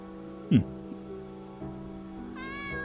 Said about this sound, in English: You notice a small cat-like creature. Oh yeah, pet the kitty.